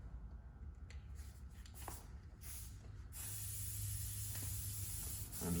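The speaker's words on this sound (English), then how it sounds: "I'm just gonna follow down the hair and spray the dickens out of it." Hairspray sprayed along a man's hairline for a ballroom hairstyle, several short hissing bursts followed by one long continuous close spray, with no speech.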